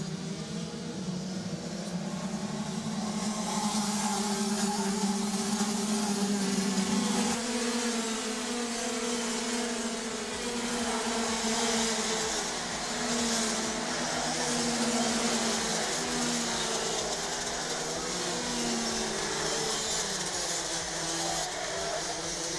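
Race cars lapping the Madona circuit in Latvia, a continuous loud engine drone with pitch rising and falling through gear changes, sustained without break.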